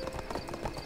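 Horse hooves clip-clop quickly in the online game ArcheAge, a short, steady run of light hoofbeats heard alone and at moderate loudness.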